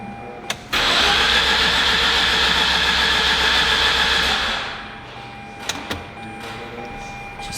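A Mazda 13B rotary engine cranks loudly with the clutch in and throttle held down, a steady grinding whir that runs for about four seconds before cutting off, followed by a couple of faint clicks.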